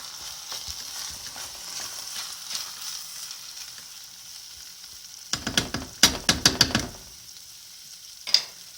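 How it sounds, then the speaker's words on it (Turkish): A spoon scrapes and clatters in a pot of chestnut rice pilaf with dill in a few quick strokes over a soft, steady sizzle. "Şimdi karıştıracağız."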